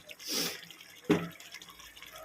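Rose water is poured into a pot of prawn biryani, giving two brief liquid splashes close by, the second sharper, over quiet kitchen background.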